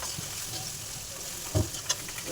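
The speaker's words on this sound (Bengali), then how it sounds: "তো আমাদের মশলা ফ্রাই হচ্ছে" Ground spices sizzle steadily in a pan for a vegetarian paneer curry, a close, even crackle with a few sharp utensil knocks near the end. No one speaks.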